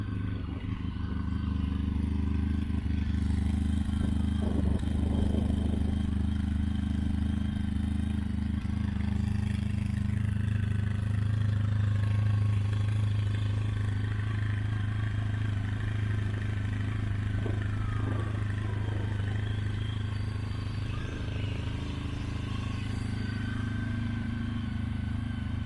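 A 2005 Honda ST1300 motorcycle fitted with cut-down Ducati mufflers idles on a cold engine while warming up, a steady, deep, throbbing rumble that holds evenly and close throughout with no talk.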